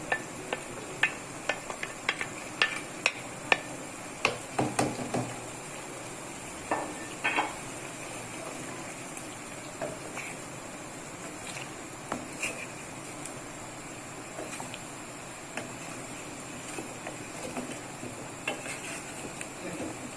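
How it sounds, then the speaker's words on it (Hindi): Tomato masala for chicken biryani fries on high heat, with a low steady sizzle under scattered clicks and scrapes of a spoon stirring against the pan, close by and fairly quiet. "मैं इसको भी अच्छे से तेज आंच में भून लूंगी ताकि मेरा टमाटर का कच्चापन खत्म हो जाए"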